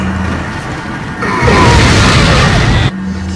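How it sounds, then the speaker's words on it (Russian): Grenade blast in Resident Evil 4, a loud close boom erupting suddenly and roaring for over a second before cutting off. "Кидаем гранату."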